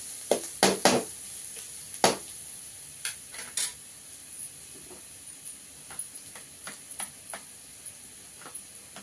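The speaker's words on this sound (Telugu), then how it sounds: "ఈ పెరుగు ఎత్తి తాలింపు వేసుకుందామండి" Tempering sizzles in oil in a pan for a yogurt okra pachadi, a faint, steady hiss broken by scattered sharp clicks and taps of a spoon against the pan.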